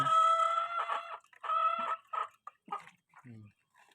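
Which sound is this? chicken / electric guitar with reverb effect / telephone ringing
chicken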